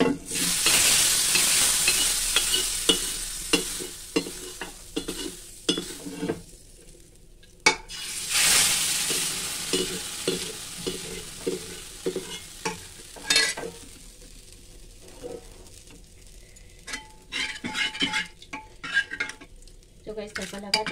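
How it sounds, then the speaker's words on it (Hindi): Loud sizzling of spices tempered in hot oil for a chana dal tadka, with stirring and scraping against a pan, bursts of hiss rising and falling over about twenty seconds. "अब इसमें तड़का लगा देंगे।"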